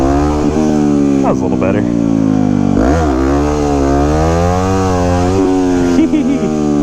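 A 2009 Yamaha WR250X supermoto engine revs loudly and steadily through a wheelie, rising and falling in pitch with throttle changes, close and dominant, while a rider speaks briefly over it.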